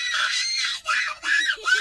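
A baby screams in shrill, wavering bursts, three or four cries broken by short gaps, loud and close.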